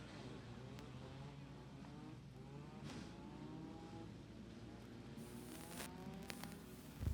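Front-wheel-drive race cars run hot laps at Toccoa Raceway, their engines droning in a continuous, faint, distant whine that rises and falls in pitch as they circle the track, with a brief louder bump near the end.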